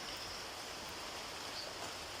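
Steady, dense hiss of heavy rain falling continuously, a broad wash of water noise with no gaps.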